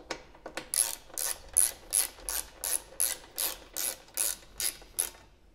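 A hand ratchet clicks in about a dozen quick, evenly spaced bursts while tightening the luggage rack bolts on a KTM motorcycle, close and fairly quiet with near silence between strokes.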